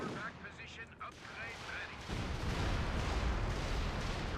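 Stuka dive bomber attack in Company of Heroes 2, a loud rolling blast and rumbling gunfire swelling in after a quieter stretch of battle noise, dense and sustained to the end with game voices mixed underneath.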